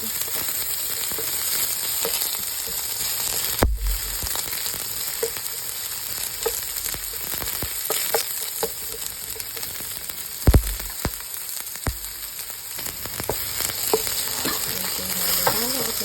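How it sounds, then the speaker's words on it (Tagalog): Onion tossed in with chicken liver and gizzards in a hot pan for adobo, a continuous loud sizzle with occasional scraping stirs and utensil knocks against the pan. "At isusunod na natin ang ating sibuyas. Ayan. Halo-haloin natin kasi baka masunog."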